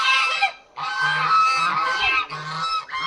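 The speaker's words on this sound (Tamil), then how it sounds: "வாத்து இந்த கத்துது கைஸ், வாத்து." Ducks quack loudly and nearby in a harsh, nasal chorus of repeated honking calls, with overlapping bursts broken by short pauses.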